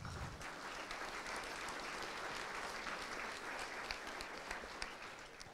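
Steady, continuous applause from an audience at a CareerTech Foundation Hall of Fame ceremony, dense and evenly sustained throughout, heard from a moderate distance in a large hall.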